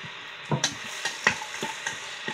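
A spoon stirs chopped pizza topping ingredients, including green and yellow bell pepper, in a bowl. Soft scraping and clicking strokes repeat unevenly, close by and moderately quiet.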